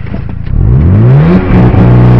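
A Mazda RX7 FD3S rotary engine revs hard at full throttle with launch control engaged, the pitch climbing quickly and then holding steady at a rev limit, loud and close.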